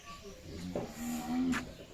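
Thin, bony cattle tethered at a livestock market give a low moo, a drawn-out call heard at moderate distance over faint crowd noise.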